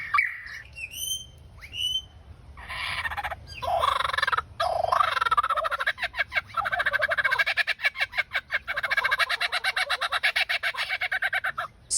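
A loud, rapid run of kookaburra calls, starting with a few harsh cries and building into a long, rhythmic cackling, laughing chorus.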